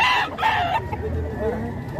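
A rooster crows at a chicken market in Padre Garcia, Batangas, one loud harmonic call in the first three quarters of a second, followed by market chatter and background noise.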